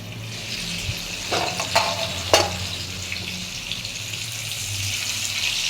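Vegetables fry in a pan while Bengali doi shukto is being made. A steady hissing sizzle runs throughout, broken by a few sharp crackles and pops.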